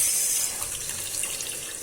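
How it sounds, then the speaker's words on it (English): Tamarind water pours into a cooking pot for rasam, a steady close splashing stream that tapers slightly, with no talk. "Just going to pour the tamarind water into this."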